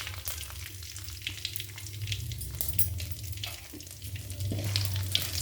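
Spices and shallots sizzle steadily in hot tempering oil for an okra curry, a close, continuous crackling fry with no one speaking.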